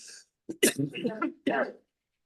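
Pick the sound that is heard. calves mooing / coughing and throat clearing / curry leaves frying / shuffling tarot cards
coughing and throat clearing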